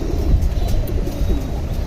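A pigeon coos softly and repeatedly at close range amid low background noise, with no talking.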